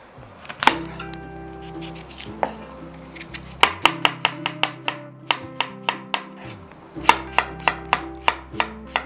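A knife chops through apples on a cutting board, cutting thin slices for an apple crumble cake filling. The sharp, regular chops come in quick bursts, alone in the room, with a few clinks of dishes between them.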